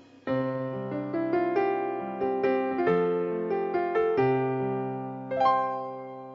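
Piano playing a simple melody over sustained bass notes, clear and close, with evenly spaced key strikes throughout.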